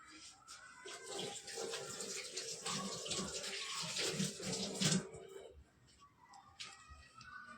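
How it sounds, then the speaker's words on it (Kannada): Tap water runs into a sink during handwashing in a home kitchen, a soft hissing splash with faint hand-rubbing and splashing, stopping near the end, with quiet clatter after. "ಹ್ಯಾಂಡ್ ವಾಶ್ ಮಾಡ್ಕೊ."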